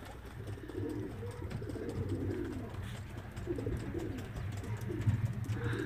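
Lithuanian racing pigeons coo in a loft, soft low rolling calls repeating from several birds at close range over a steady background hum.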